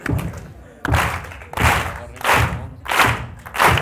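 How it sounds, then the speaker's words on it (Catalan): An audience at a film screening with Fermín Muguruza claps together in unison, a series of about six loud, heavy synchronized claps at a slow, even beat. "Heu de fer l'aplaudiment tots junts"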